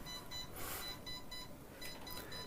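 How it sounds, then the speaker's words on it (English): An alarm going off at a distance, faint repeating electronic beeps in short pulsed groups over a low room hum. "Got an alarm going off over there."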